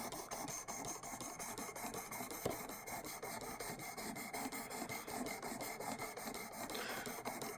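A Demko SharkCub knife blade is drawn back and forth across an 800 grit sharpening stone in a quiet, steady rasping rhythm of short scraping strokes, close and soft.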